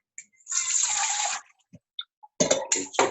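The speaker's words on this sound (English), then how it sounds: "You put some water on it to cool it down." Water poured onto a hot cooking pan to cool it gives a burst of hissing splash for about a second. Short clinks and taps follow, then two more rushing spurts of water.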